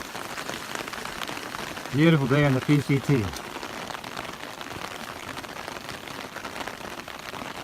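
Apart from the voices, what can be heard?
steady rain falling on a hiking trail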